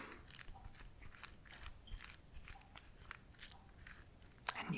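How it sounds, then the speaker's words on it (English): Someone eating a fruit bowl with banana, close and quiet: a series of soft wet bites and crunchy chews repeating irregularly, with a sharper crunch near the end and no talking. "I'm gonna go ahead and eat this fruit bowl now"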